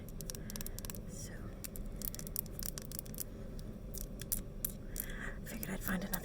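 Enchanted scissors glued together are handled close up with quiet, crisp clicks and scrapes at irregular intervals over a soft hiss, and a voice whispers alongside.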